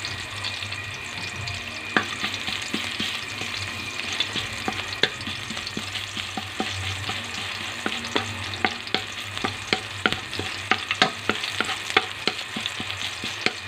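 Garlic frying in a pan while being stirred, steady close sizzling with scattered sharp clicks and scrapes of the utensil against the pan throughout, no voices.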